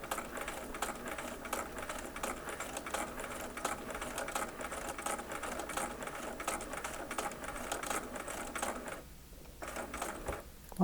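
Sewing machine stitching a quilt seam for an eight-point star, a steady close rattle of rapid needle strokes that runs for several seconds, then pauses briefly before a final short burst, with no talking.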